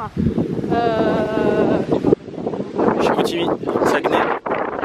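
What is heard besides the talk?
wind blowing outdoors, wind noise on microphone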